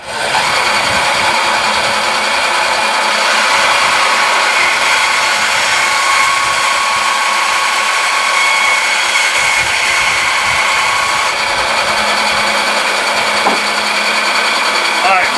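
A loud, steady power tool whines and buzzes continuously at close range while cutting, holding a constant drone throughout.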